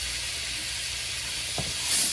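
Garlic sizzling in a hot pan for fried rice, a steady close hiss and crackle that swells slightly near the end, with no talking over it.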